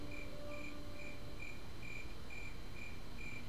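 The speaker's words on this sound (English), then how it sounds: "I hear crickets chirping." Crickets chirp in steady, rhythmic pulses against a soft, constant outdoor hiss, fairly faint and with no voices.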